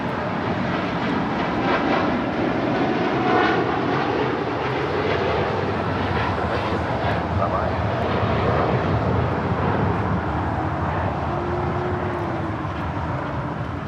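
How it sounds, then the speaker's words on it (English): A United Airlines Boeing 787-10 Dreamliner jet roars steadily on takeoff at a large airport, a loud, continuous broadband engine rumble and whine that holds throughout with no voices. "This is United Airlines Flight 39 Heavy taking off to Tokyo Haneda on a 787-10 Dreamliner."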